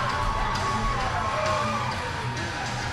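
A hockey crowd in the arena at Seaforth roars and cheers after a penalty-shot goal in an OEHL playoff game, a steady wash of shouting and applause under faint nearby talk.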